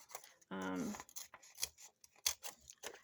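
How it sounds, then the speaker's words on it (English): Scissors snip a nick into the side of a paper packaging tag during a craft project, a few short, crisp cuts heard close and quiet, with a brief hum-like tone near the start. "I usually just use my scissors."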